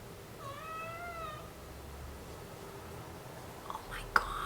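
A young cat of about one year gives one clear, drawn-out meow indoors against a quiet background, followed by faint soft rustles and a small sharp tap near the end.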